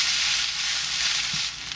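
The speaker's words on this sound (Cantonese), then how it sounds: "嗱，就煎下邊啦。" Guangzhou-style crispy noodles pan-fry in oil on their bottom side, giving a steady bright sizzle and crackle close up with a soft stir partway through, and no speech.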